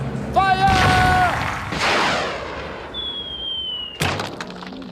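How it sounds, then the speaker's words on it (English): A cartoon cannon fires a man out with a booming blast, then a long descending whistle as he flies and a sharp crash at the end, preceded by a cartoony sliding tone, all loud and close. "a man will be shot out of a cannon. 3, 2, 1, fire!"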